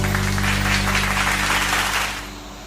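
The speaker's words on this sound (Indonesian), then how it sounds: "Tepuk tangan dulu untuk Virgi." Applause from a class audience for a student presenter, a dense continuous clapping wash over a low steady hum that fades out toward the end.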